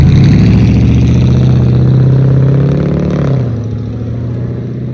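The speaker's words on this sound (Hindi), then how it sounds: "वो गाड़ी इतना आवाज़ कर रही थी।" A car engine passes close by, a loud steady drone that rises and then fades as the vehicle moves away.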